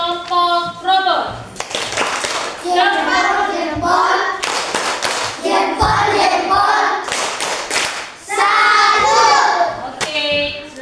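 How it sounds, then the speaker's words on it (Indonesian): A classroom group gives a rhythmic clapping salute to the robot team, several bursts of sharp patterned claps mixed with children's voices chanting and talking between them. "tepuk salut untuk kelompok robot"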